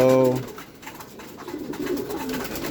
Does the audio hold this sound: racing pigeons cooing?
yes